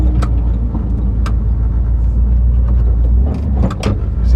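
An old truck that sat parked for over 15 years idles fast, its engine a loud, steady, close rumble with a few brief clicks and knocks on top.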